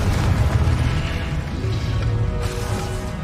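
A Confringo fire spell explosion in Hogwarts Legacy, a loud, sustained fiery roar and boom that fills the whole moment with a slight flare of crackle partway through.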